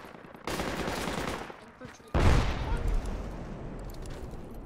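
Gunfire in the video game Project Reality, a sustained volley of rapid shots followed by a heavier, louder close burst with a booming low end, fading into rattling fire, with voices talking over it.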